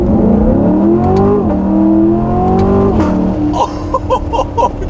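An extremely loud C7 Corvette with an automatic transmission is driven hard on a mountain road. Its engine climbs in pitch, drops sharply at each quick upshift and climbs again, then settles into a rougher burble.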